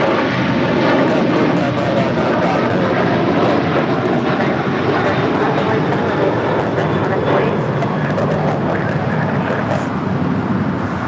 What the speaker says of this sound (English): That is Alaska Airlines Flight 1341 coming in from Cabo, 737-900ER.